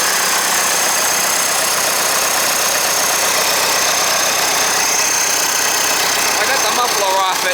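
A Trackless MT5TD engine runs loudly with its muffler removed, a harsh, constant roar up close throughout.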